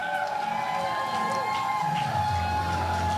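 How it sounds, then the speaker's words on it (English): A crowd cheers at a Green Party election-night event as the leader arrives, a busy continuous roar of voices and shouts with mixed speech and ambient noise over it. "You could probably hear the cheering, Mike, Mike, Mike"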